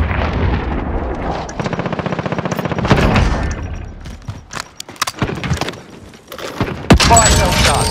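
Rapid automatic gunfire in Call of Duty: Modern Warfare, a dense rattling burst followed by scattered sharp shots and clatter, loud and close, with radio-style voices talking over parts of the action.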